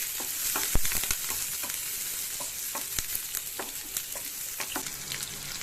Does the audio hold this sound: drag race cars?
no